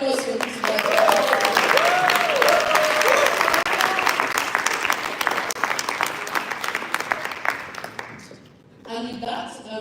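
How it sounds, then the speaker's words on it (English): Audience at an Erasmus Mundus Association annual conference and general assembly gives a round of applause, dense steady clapping for about eight seconds that fades, then a brief burst of voices. "A round of applause for Rutu Raj."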